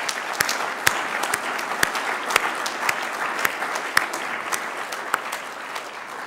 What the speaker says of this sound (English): one final round of applause for such a tremendous achievement